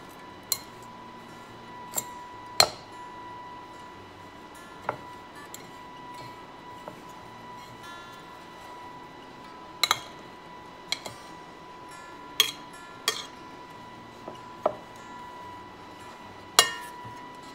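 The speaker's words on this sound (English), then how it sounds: "I'm gonna take 3 tablespoons of butter that it's been softened, and we're gonna cut that in" A pastry cutter cuts softened butter into the dry mix for lemon coconut bars in a bowl, giving sparse, irregular metallic clinks and taps against the bowl over a quiet background hum.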